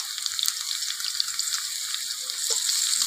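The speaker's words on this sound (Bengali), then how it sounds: "আলুটা হালকা ভাজা হয়ে গেছে," Potatoes lightly frying in a pan for a fish curry with aubergine, giving a steady soft sizzle and faint crackle throughout, close and alone.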